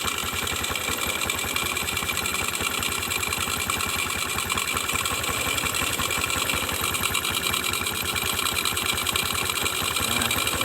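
A Yamaha Jupiter MX motorcycle engine idling steadily, a fast even mechanical putter close by that holds constant for the whole stretch, with no voices over it.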